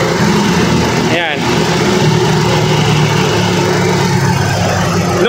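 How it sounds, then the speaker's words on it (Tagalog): A used car's engine idles steadily and smoothly throughout, a close continuous hum, while someone talks over it. "Smooth na smooth ang takbo ng engine po natin."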